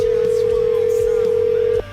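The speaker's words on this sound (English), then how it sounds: "It's cranking. It's ringing." A telephone line rings with a clean, steady tone, one sustained ring lasting nearly two seconds under faint background talk before stopping.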